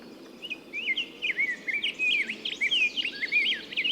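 Several songbirds sing in quick, high, warbling phrases, fairly close and continuous, over a faint outdoor hum.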